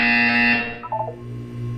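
Electronic buzzer tone in the video game Portal 2, a steady harmonic drone for about half a second that drops away into a short warbling electronic flourish, then a low hum carrying on underneath.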